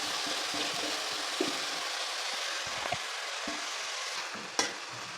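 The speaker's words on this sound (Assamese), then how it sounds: "ভালদৰে লৰাই মই 5 মিনিটৰ কাৰণে ঢাকি থলোঁ।" Spinach and tomatoes stirred in a hot cooking pan, a steady close sizzle and fry with a few soft scrapes and a sharp clink near the end.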